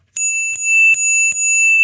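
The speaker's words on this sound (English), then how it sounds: "That is a crazy bike bell." A bright, metallic bell rings four times in quick succession, with clear sustained tones that hang between strikes.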